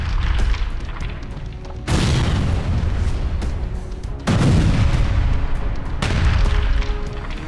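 Heavy blasts from Israeli airstrikes on Gaza boom repeatedly, three large deep explosions spaced a couple of seconds apart over continuous loud rumbling, with no voices.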